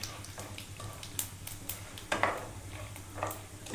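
Bay leaf and whole spices stirred in hot oil for South Indian tomato rice, with a soft steady sizzle and light scrapes of a spoon against the pan, several sharper clinks standing out over a low background hum.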